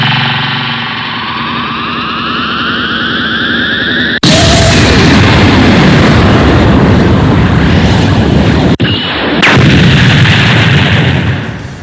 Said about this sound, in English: The first attack I started working on was the Kamehameha.